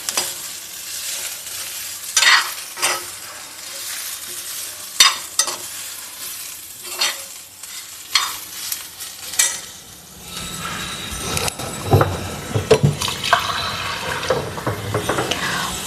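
Ridge gourd with tamarind and salt sautéing in a pan: a sizzle broken by repeated sharp scrapes and clanks of stirring, busier and louder toward the end, with no one speaking.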